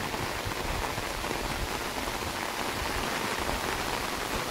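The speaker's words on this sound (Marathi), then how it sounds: "एक पाऊस चालू आहे" Heavy morning monsoon rain pours down in a village, a dense, loud, unbroken roar of drops heard up close with no voices.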